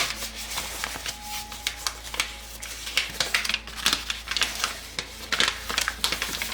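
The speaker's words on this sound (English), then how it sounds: "There's like different leaflets actually that I'm rustling with at the moment." Paper leaflets rustle and crinkle in quick, uneven handling bursts close to the microphone, with no talking.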